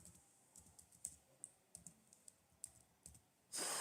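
Password keys tapped on a computer keyboard in a quiet room, about a dozen light, irregular clicks that run alone before a burst of broadband noise at the end.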